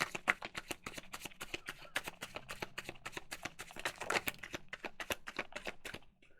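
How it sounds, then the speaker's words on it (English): Tarot cards riffle and snap in a rapid, even run of crisp flicks close by, lasting several seconds before stopping. "one more shuffle"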